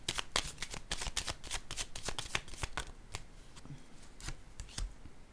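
Tarot cards being handled on a table during a reading, a burst of quick riffling clicks that thin into a few separate card slaps and soft shuffling taps, close and fairly quiet, with no voices.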